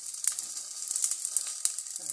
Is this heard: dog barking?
no